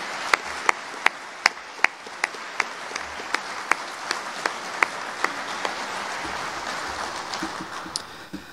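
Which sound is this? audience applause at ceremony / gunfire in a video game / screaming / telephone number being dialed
audience applause at ceremony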